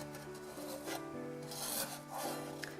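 A tool scrapes and rubs along the bottom of a pot as resin is stirred into melting beeswax for encaustic painting, a quiet continuous rasping with slow rhythmic strokes.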